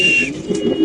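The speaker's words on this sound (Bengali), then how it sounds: "খুব সুন্দর স্প্যানিশ কবুতর" Lahori pigeons cooing close by, a short, soft, throaty burble lasting under a second, with no talking.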